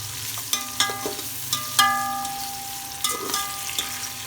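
Sliced onions fry in a generous amount of hot oil for Lahori white chickpeas, browning toward golden, with a soft steady sizzle broken by sharp clinks and scrapes of a spoon stirring against the pot.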